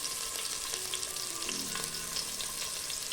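Sliced onions and slit green chillies fry in oil in a pressure cooker, making a dense, even hiss with fine crackles that stays steady and close throughout.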